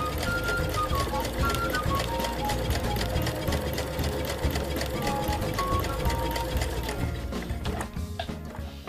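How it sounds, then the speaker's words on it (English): A sewing machine stitches fabric in a close, continuous mechanical chatter, the needle's rapid rhythm holding steady before easing off near the end. "we can continue sewing"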